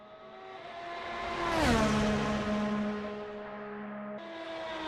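Race car passing through the final chicane at Suzuka, a high engine whine with a clear downward pitch sweep as it goes by, then holding a steady tone before a brief gear change.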